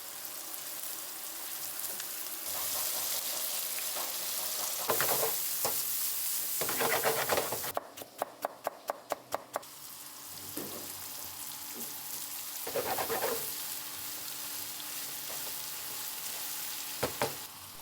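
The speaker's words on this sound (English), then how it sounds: "I love the smell of beef cooking in the savory butter." Beef frying in savory butter for Azerbaijani Saji at a Sheki street food kitchen, a continuous loud sizzle broken by stirring scrapes and a burst of sharp clatters midway, with no talking.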